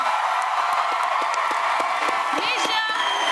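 A studio audience at an X Factor UK live show cheers and applauds after a performance: a steady, loud wash of clapping and crowd noise, with a voice talking over it.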